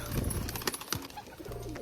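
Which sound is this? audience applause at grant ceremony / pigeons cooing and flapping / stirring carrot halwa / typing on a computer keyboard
pigeons cooing and flapping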